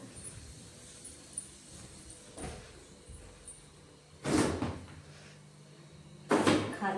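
A quiet room with a few soft clicks, then two louder thuds a couple of seconds apart as a fridge door is opened and shut.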